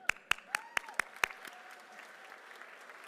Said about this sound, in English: I would call for another round of applause